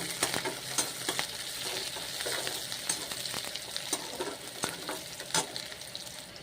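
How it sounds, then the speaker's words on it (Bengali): Chopped onions fry in a pan for a pea and mushroom curry, a close, continuous sizzle broken by scraping stirs and occasional sharp crackles. "আমার পেঁয়াজটা ভাজা হয়ে গেছে"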